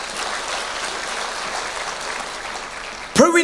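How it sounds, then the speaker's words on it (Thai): Congregation at a Thai church service gives loud, sustained applause, a thick even roar of clapping that fills the room before a voice starts speaking at the very end. "ขอเสียงปรบมือกับพระวิญญาณบริสุทธิ์"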